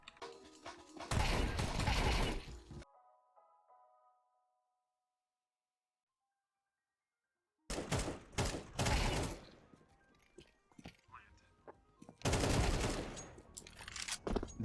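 Gunfire from players being shot in the video game CS2, loud bursts of close shots at the start, then several seconds of silence, followed by further rapid volleys near the end.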